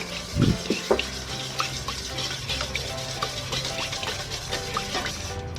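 Cake batter with milk and vegetable oil stirred in a bowl, giving a soft wet swishing with a couple of louder clinks at the start and steady liquid churning after, close and without talk.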